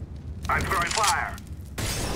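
An incendiary grenade is thrown in CS:GO, bursting into a loud crackling whoosh of fire that lasts a little over a second before cutting off, with a second short burst at the end.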